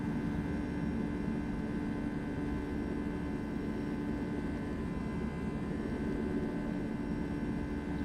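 Airbus A321neo jet engines in the X-Plane flight simulator climbing after takeoff, a steady, even engine roar and hum holding at constant loudness throughout, with no talking.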